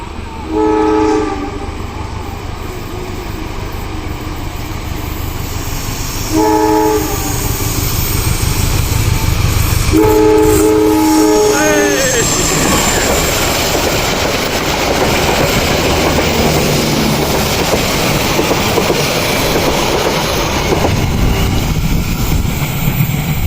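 An Indonesian diesel locomotive sounds its horn in three loud, separate blasts, then rolls past with a steady rumble and wheel clatter that builds and stays loud to the end.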